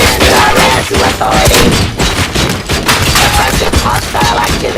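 Heavy gunfire in the RoboCop: Rogue City game, loud rapid bursts of shots and impacts with thuds and crashes, nearly continuous over almost five seconds.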